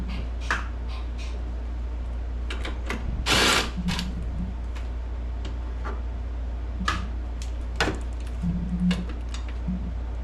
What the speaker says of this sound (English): You actually have to unbolt the hood.